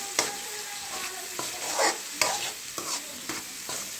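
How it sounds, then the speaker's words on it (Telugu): Tomatoes cooking in a pan, stirred with repeated sharp scrapes and clinks over a soft steady sizzle, close up, with no voices. "సో ఇట్లా టమాటా వేసి టమాటా కొంచెం ఉడికేదాకా మనం కలుపుతూ ఉండాలి."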